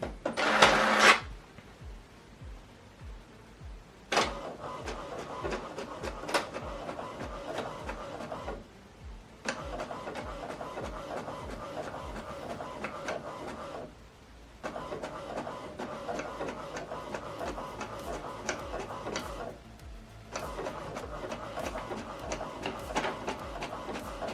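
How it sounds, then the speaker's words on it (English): An HP Deskjet 3700 printer prints a document, giving a steady mechanical whirring and chattering. The sound runs in several passes separated by short pauses, with a louder feed burst at the start. No other sound competes with it. "Now this document is printing."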